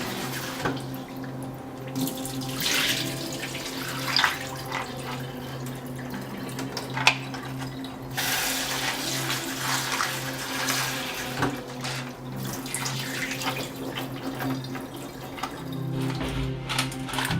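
Tap water runs steadily over spinach and clams being washed at a kitchen sink while preparing Korean clam spinach soybean paste soup, a continuous hiss and splash with occasional louder spatters from handling.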